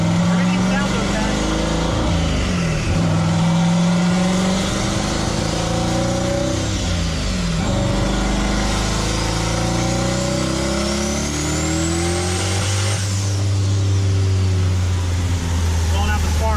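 Turbocharged car engine revving hard on a dyno during tuning, a loud sustained drone with pitch rising and falling through several pulls, close by, with some talk mixed in.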